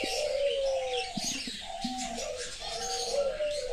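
A pair of chuithal birds sitting on a clutch of eggs at their nest give repeated cooing, whistled calls with brief chirps, close and steady with no talk.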